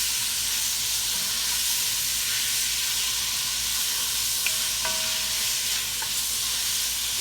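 Onions sizzle and fry in a pan with beef drippings, a steady close hiss broken by a few brief clinks near the end, with no talking.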